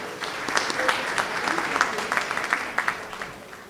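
Applause at a business awards ceremony honoring CNSS IMMO, scattered hand claps from a moderate crowd rippling steadily for a few seconds, with speech audible beneath.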